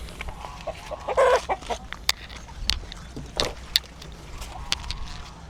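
Chickens cluck and squawk in scattered bursts, with sharp clicks and rustling around them in a busy coop.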